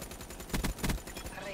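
Gunfire in the Black Ops video game during a free-for-all match: two heavy bursts of shots close together over steady game noise, with a voice talking underneath.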